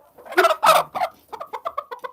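A small hen in moult gives a short run of close, loud clucks and squawks, then a steady series of softer, evenly spaced clucking calls.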